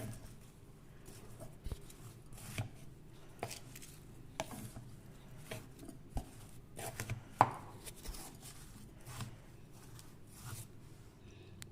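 Mango pickle pieces mixed by hand with chili and salt in a bowl, giving soft, irregular taps and squelchy knocks, faint and close, with no talking.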